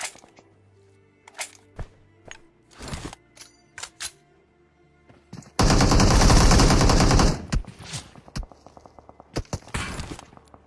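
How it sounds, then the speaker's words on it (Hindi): Scattered single gunshots and short bursts, then a long sustained volley of automatic fire, loud and close, with game-like clicks between shots. "तो ये देखो तो गोलियां आर पार आ रही थी।"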